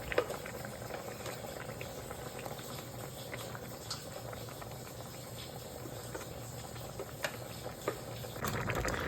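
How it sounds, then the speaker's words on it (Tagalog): Salmon head sinigang in miso broth boils steadily in a pot, a continuous close bubbling and seething with a few louder pops, heard alone without talk. "after ilang minuto ng pagpapakulo"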